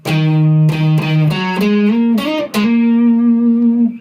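A loud electric guitar through a distortion pedal plays a short phrase of sustained notes, each picked note buzzing with thick overdrive and ringing out before the next.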